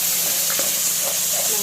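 Ginger garlic paste sizzles and spits in hot oil with fried onions for mutton curry, a loud close crackling fry with faint stirring scrapes.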